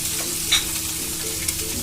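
Fresh mirka fish frying in hot oil in a home kitchen, headed for a tomato curry: a steady, close, continuous sizzle and crackle with a couple of brief louder spits and no talking.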